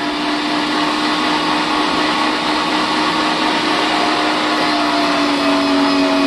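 Loud, steady mechanical whirring and grinding drones without pause as a meat grinder grinds wild hog, a dense motor noise that stays constant throughout.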